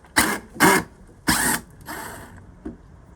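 A power tool with a T30 bit undoes floorboard bolts, giving four short, loud bursts of whirring and ratcheting with brief pauses between them, the last one shorter and quieter.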